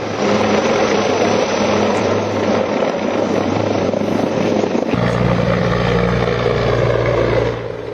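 Helicopter engine and rotor drone over hills during a search operation for a militant near Pahalgam, a loud steady roar throughout with a deepening low throb after the midpoint.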